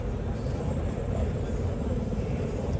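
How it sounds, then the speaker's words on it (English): A military helicopter flies overhead in the combat game Arma 3, a steady low rotor rumble with no clear peaks throughout, and faint voices underneath. "That's a helicopter that we can hear overhead."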